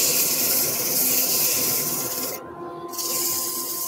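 Sanding a turned wooden hand mirror on a lathe with dust extraction running: steady broad hiss and rasp, continuous and close, with a brief dip partway through.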